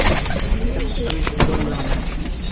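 A pigeon kept at a Lucknow home coos close by in low, soft throaty notes, set against a busy ambient background with faint voices nearby.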